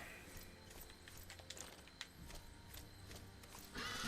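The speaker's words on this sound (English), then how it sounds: "why did they use horse sounds?" Horse hoof clip-clop sounds in the Arcania Gothic 4 video game: a faint, quick run of hollow knocking steps under a busy background, with a louder burst right at the end.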